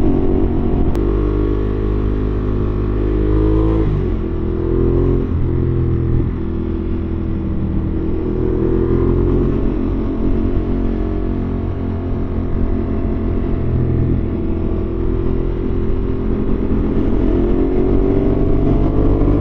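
A Ducati Panigale V4 idling and creeping through hot city traffic, its deep, loud engine rumble steady with slight revs, no voices over it.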